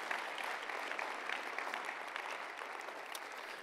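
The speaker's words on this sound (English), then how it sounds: "Come on, give a clap offering of praise to our Lord God." A church congregation claps in praise during a service, a dense sustained burst of many hands applauding together, moderately loud and steady with no voices over it.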